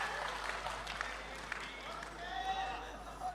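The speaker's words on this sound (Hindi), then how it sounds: "तालियां बजनी चाहिए" Applause from an audience at a Hindi comedy and satire poetry event, a steady wash of clapping that runs the whole time with cheers and voices mixed in.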